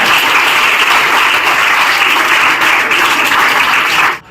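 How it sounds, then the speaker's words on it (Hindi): A college audience at a pharmacy and paramedical career counseling session gives a speaker loud, dense, sustained applause that stops abruptly near the end. "इन सर के लिए जोरदार एक बार तालियां।"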